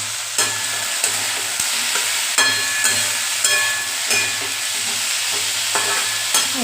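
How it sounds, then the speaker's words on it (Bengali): Potatoes frying in a pan with salt, turmeric and tomatoes, a steady close sizzle broken by repeated scraping stirs at an uneven rhythm, with no talking. "আলুটা দিয়ে নুন হলুদ দিয়ে ভাজবো"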